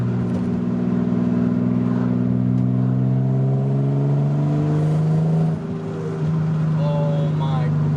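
An Infiniti G35 with a turbo accelerates hard in second gear, its engine note rising steadily in pitch for several seconds, briefly dipping at a shift, then pulling again up close.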